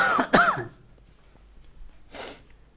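A teacher with a mild cough during a Hindi math lesson gives two sharp, close coughs, then a short raspy throat clearing after a quiet pause.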